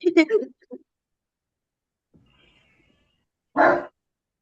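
A pet dog gives a short burst of barking and a single bark after a long pause, with faint sounds between, during an online class.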